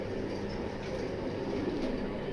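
Pigeons in a loft of racing birds from foreign bloodlines coo softly and steadily, with a low, continuous hum underneath and no voices.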